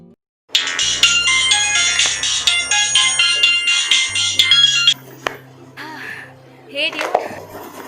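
A phone rings repeatedly during an outgoing call, the ringing loud and close with a steady repeating pattern, and a voice is heard briefly near the end.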